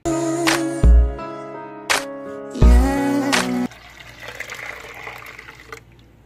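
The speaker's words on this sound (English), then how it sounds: "I try to fill the crock pot halfway up" Tap water pours into a slow cooker crockpot being filled for cleaning, with two strong bursts of running water alongside clattering handling noises, then a softer, steady trickle into the pot close by.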